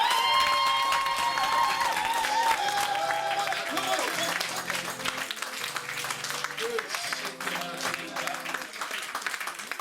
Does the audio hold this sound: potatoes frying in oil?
no